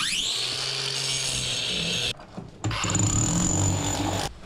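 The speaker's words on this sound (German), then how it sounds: "Ich denke, ich schneide mir das auch hier jetzt mit der Flex aus." Angle grinder cutting into a bathroom wall to recess a shower fitting, a loud high whine that spins up, cuts steadily, stops briefly, then bites back in for a second pass.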